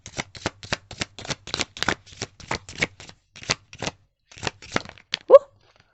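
Tarot cards are shuffled in quick riffling bursts, a rapid rhythmic run of crisp paper flutters with short pauses, close and clear, ending with a brief snap.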